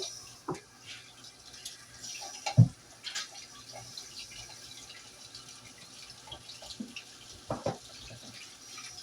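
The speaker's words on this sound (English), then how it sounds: "And 2 cups of warm water." Two cups of warm water poured into a mixing bowl for jalapeno cheese bread dough, giving soft splashing and trickling with a couple of sharper knocks and drips, fairly quiet and close.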